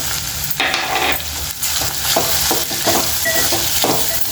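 Ingredients for a ridge gourd chutney fry in a pan, a steady loud sizzle broken by stirring scrapes and clinks, close up.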